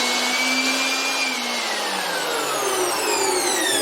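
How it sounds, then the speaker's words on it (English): Makita dust blower warming up: a loud, steady whining motor whir with a rising-then-falling pitch as it spins, continuous and close, with no talking. "it's warming up the blower"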